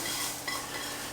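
Onions sweat in a pan with a soft, continuous sizzle, and a faint scrape of stirring is heard briefly.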